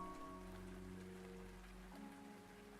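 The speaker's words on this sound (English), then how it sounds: "Out on a lawn in the rain." Rain falling on a lawn in the video game Arknights, a soft steady patter under quiet sustained musical tones, faint and even throughout.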